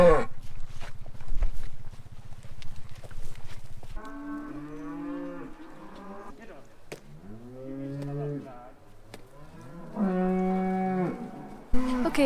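Cattle on a farm being brought in during calving, with several loud, close moos in drawn-out calls, some overlapping, after a steady low mechanical hum at the start.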